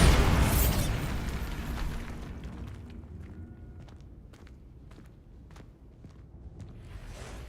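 The Bombarda spell goes off in Hogwarts Legacy with a loud blast that rolls into a long fading rumble, followed by a scatter of sharp crackles and debris pops over several seconds. No one speaks.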